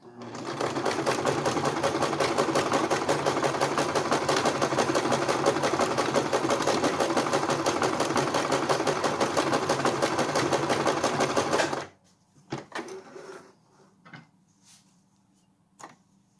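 Sewing machine running steadily for about twelve seconds while stitching a thick fabric cake strip, a loud continuous rapid mechanical whir, then stopping abruptly and leaving a few faint handling clicks.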